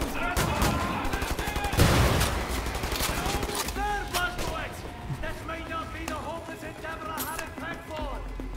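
Shotgun blasts and other gunfire in the shooter game Wolfenstein: The New Order, dense bursts of game combat noise with music and effects, while a player talks over it.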